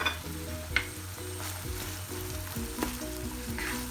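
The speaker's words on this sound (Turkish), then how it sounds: "Kavrulan kıymamızı şimdi soğanlarımızı ekleyeceğiz." A steady, loud sizzle of minced meat and onions frying in a pan, with occasional scraping and stirring sounds.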